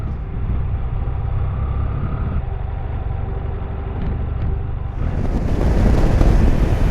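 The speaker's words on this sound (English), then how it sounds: "Yep, definitely windy." Strong wind blowing on the Oregon-California coast by the ocean, a steady loud rush that swells and grows harsher toward the end, with no voices.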